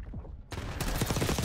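Gunfire in Black Ops 6, a quiet stretch broken by a sudden loud burst of rapid automatic shots that keeps going, close and dense, with no talking.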